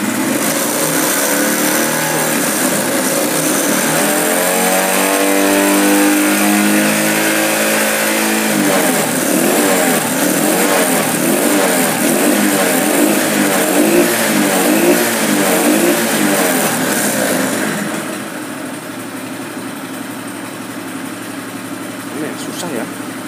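A motorcycle with dim headlights that fade under throttle is revved repeatedly, its loud mid-pitched engine rising and falling near the microphone for most of the span before settling toward idle.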